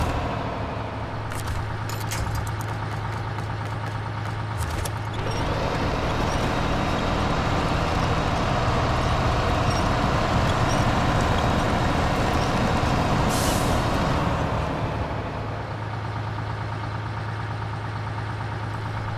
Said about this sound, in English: I use the winch to winch my way along